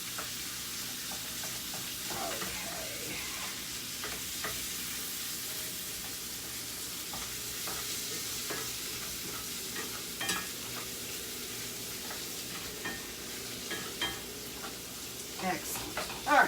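Meat browning in a pan for lasagna gives a steady, fairly quiet sizzle throughout, broken by occasional scrapes and taps of a utensil stirring, close by with no talking.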